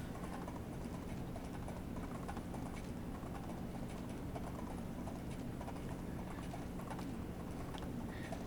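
Horse hooves clip-clop in a steady rhythmic gait while riding in a video game, a continuous, even patter at moderate level with no speech over it.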